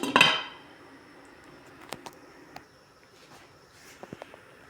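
A metal lid set back onto a cooking pot while tuna soup cooks, one loud clattering clank at the start followed by faint scattered clinks in a quiet kitchen.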